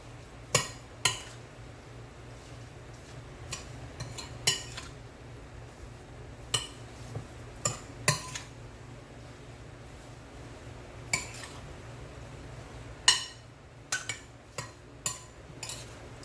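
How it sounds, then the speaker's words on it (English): A utensil stirs coleslaw dressing with sugar in a bowl, producing scattered light clinks and taps against the dish at an irregular pace over a quiet background. "Mix it in. Make sure the sugar is dissolved."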